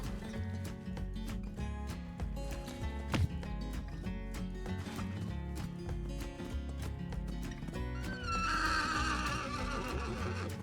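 A horse in the Roblox game Sonora lets out a loud, wavering whinny near the end, preceded by rhythmic game music and scattered soft thuds.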